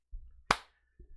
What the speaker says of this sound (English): you start hearing a slow clap